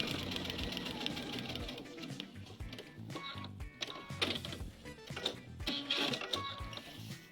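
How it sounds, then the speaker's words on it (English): A sewing machine stitches quilt borders in quick mechanical bursts, with rattling and whirring that stop and start over several seconds. "I'm heading over to the sewing machine to sew that one"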